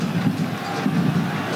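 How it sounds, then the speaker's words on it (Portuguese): Vasco football supporters in a 1998 Brazilian league stadium roar and shout as a broad, distant crowd swell, rising and falling in a continuous wash of voices. "A torcida do Vasco levou um susto depois do gol do Santos. Agora volta a gritar."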